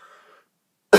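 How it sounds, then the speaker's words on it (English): A single short, loud cough bursts out near the end after a faint murmur and near silence, close to the microphone. "if I do cough, I'm sorry about that"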